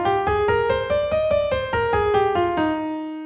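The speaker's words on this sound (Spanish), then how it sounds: "La escala más importante de nuestra música es la escala mayor" A major scale played note by note on a pitched instrument, eight or so evenly spaced bright tones stepping through the scale with clear harmonics, the last note ringing out, no voice.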